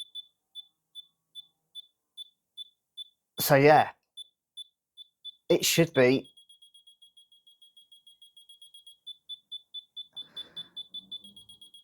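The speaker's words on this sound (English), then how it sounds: "Let's see how many beeps it gives me." A laser level gives short, high beeps at a steady pace, and they quicken into rapid pulses. A person speaks briefly between the beeps.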